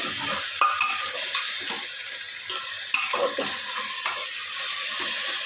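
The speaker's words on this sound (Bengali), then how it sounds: "সবজির সাথে আর আদা রসুনের সাথে সমস্তটার সাথে ভালো করে একটু নাড়াচাড়া করে দিতে হবে" Chicken being stirred in a pan with vegetables, ginger and garlic, a continuous sizzle of frying under intermittent scraping and clinking of a utensil against the pan.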